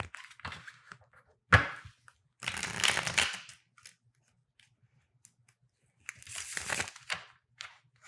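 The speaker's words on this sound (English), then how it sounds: "Why don't we shuffle these?" A tarot card deck being shuffled in a few separate bursts of riffling and rustling, close up, with quiet gaps between.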